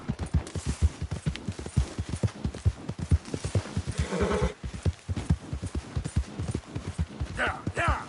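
A horse in the Red Dead Redemption 2 video game gallops with rapid, steady hoofbeats and lets out a whinny partway through, while a rider's voice calls out over the hooves.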